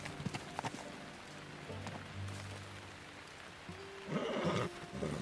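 Horse hooves clip-clop in the video game Teardown, a few uneven knocks early on against a low steady hum, followed by a louder hissing burst near the end.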